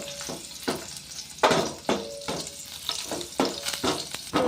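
Onions frying in oil for a menthulu pappu (fenugreek dal), with loud sizzling crackle and repeated bursts of stirring scrapes against the pan, close up.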